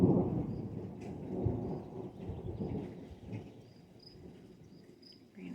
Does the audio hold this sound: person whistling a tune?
no